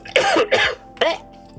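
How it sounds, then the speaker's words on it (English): A video-game character coughs and chokes on a moon base as air runs out, three harsh raspy bursts in quick succession, close and loud with no talking. "cough and choke, not good."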